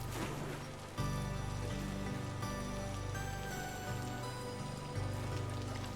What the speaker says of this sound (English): Not rain again.